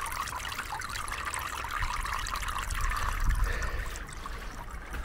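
Water trickles steadily out of a field drain serving an earth cellar, a continuous close, soft gurgling flow with a slight swell midway and no talk over it.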